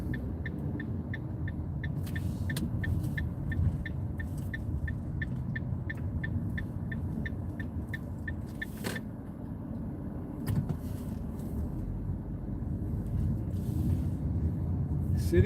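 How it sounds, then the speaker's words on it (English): A car moves through Baltimore city traffic along Charles Street at rush hour, with a steady low road rumble and a regular ticking pulse running through most of the stretch, plus a few brief clicks and knocks. "City driving."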